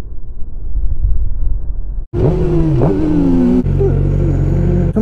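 Suzuki GSX-R600 motorcycle engine idling after starting up, close and loud, with short throttle blips raising the revs a few times.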